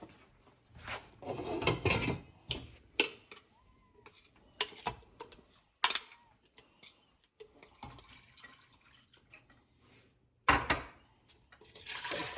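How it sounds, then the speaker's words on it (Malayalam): Water splashes and pours in bursts into a pressure cooker holding ground masala, with clattering of the vessel and rubbing sounds between, close by and uneven. "അപ്പോൾ നമ്മൾ വെള്ളം ഒഴിച്ചു."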